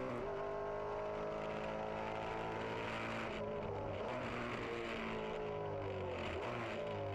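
Onboard engine of a Maserati Trofeo race car at Abu Dhabi, a loud, steady high-revving drone with rising and falling pitch as gears change, close and continuous throughout.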